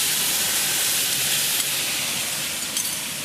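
Steady, loud sizzle and hiss of beef frying in groundnut oil in a hot wok, a continuous close-up frying noise with no talking.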